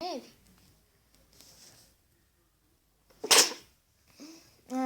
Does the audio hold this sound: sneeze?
yes